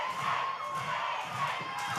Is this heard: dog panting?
no